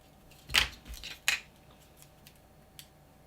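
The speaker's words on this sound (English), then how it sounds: "grab a sharp pair of scissors, and just do a little bit of backfill in there" Two sharp snips of scissors cutting tape close by while building a Trumpeter A-10 Warthog scale model, followed by faint rustling and a soft click in a quiet room.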